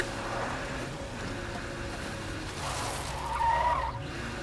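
Car tires skid across the ground in the video game State of Decay 2, a steady scraping rumble with a sharper squeal rising near the end, fairly loud and continuous.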